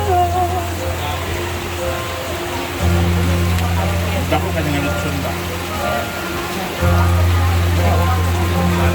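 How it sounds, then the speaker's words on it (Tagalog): Heavy rain pours steadily at a Philippine fiesta, a dense even wash close by, with a low engine drone rising and falling beneath it and people talking over the downpour. "Grabe ang lakas pa rin ng ulan guys oh."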